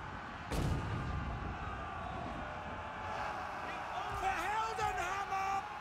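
Booming cannon blasts in a Total War: Warhammer III battle soundscape, Empire cannons firing, a heavy report followed by rumbling fire and shouting over constant background din.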